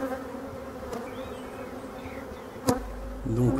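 Honey bees from a colony in an open wooden hive, a steady close buzzing drone with individual bees passing by, and a couple of sharp knocks from hive frames near the end.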